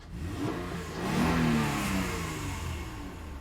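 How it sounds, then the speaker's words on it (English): A 2003 Honda Odyssey 3.5L V6 with a misfiring cylinder runs, its engine note swelling briefly as it revs, then settling back to a steady, moderately loud drone. "So the engine is running."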